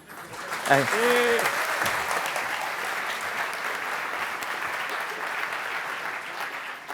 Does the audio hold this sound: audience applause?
yes